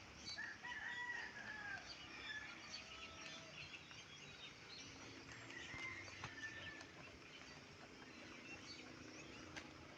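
Farm hens cluck and a rooster crows faintly at a distance, soft scattered bird calls over quiet outdoor background noise with light rustling.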